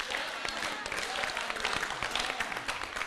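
An audience claps steadily through a festive Holi comedy and poetry show, a fairly quiet, continuous patter of many hands with sharper individual claps poking through.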